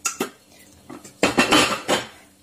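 Glass lids and terracotta-coated sauté pans are handled, giving several sharp clanks and clatters of metal and glass, close and fairly loud, in two clusters.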